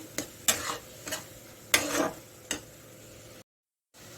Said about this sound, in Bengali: রসুন ফোড়ন দিয়ে এই যেখানে আমি সোয়াবিন করবো ওই জন্য আমি মশলাটা কষিয়ে নিচ্ছি